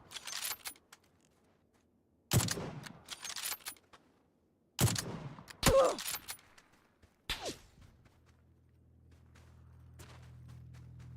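Gunfire in PUBG: several sharp, separated bursts of shots spread across a few seconds, loud against near silence, followed by a steady low engine-like hum.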